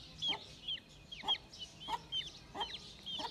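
Aseel chickens clucking in short, repeated bursts at a steady rhythm, fairly close, with no talking over them.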